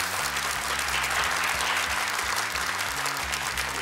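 Studio audience at a television game show applauding, a dense, steady burst of clapping from many hands lasting the whole short clip.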